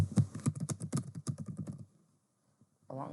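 Rapid, close keystrokes on a computer keyboard in a steady burst of clicks, then a pause and a short final tap, with no talking.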